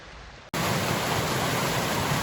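Steady, loud rush of Ledbetter Creek water at a trail crossing in North Carolina, a continuous broadband wash that cuts in suddenly after a brief quieter moment and holds constant.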